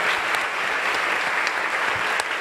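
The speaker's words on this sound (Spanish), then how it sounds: "Fuerte ese aplauso al Señor." Church congregation applauding loudly and steadily in praise, a dense continuous wash of clapping at close range with no talk over it.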